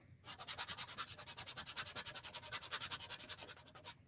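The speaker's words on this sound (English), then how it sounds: "So let me just see if I sand it off, if it'll come off." Sandpaper is rubbed back and forth over a black line in a rapid, even rhythm of close, faint scratchy strokes, roughly eight per second, with no talk.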